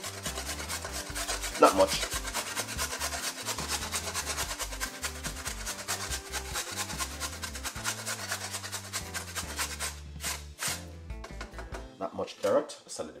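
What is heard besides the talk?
grating a carrot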